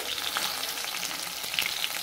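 Banana blossom koftas shallow-frying in hot oil in a pan, giving a steady close sizzle and crackle with occasional sharper pops and light stirring noises.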